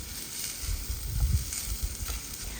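Potato bhaji sizzles and fries in a pan over a clay stove while being stirred, a soft constant crackle with faint scraping bumps from the stirring.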